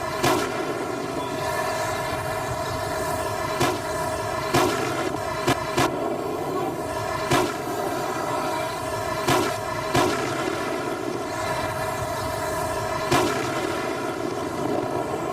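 Explosive simulator on a military tank imitating main gun fire: several sharp bangs at irregular intervals over a steady, rumbling engine drone, with no talk.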